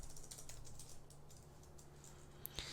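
Quick, soft keystrokes tap on a computer keyboard in an irregular patter, faint and close-up, with a slightly sharper click near the end.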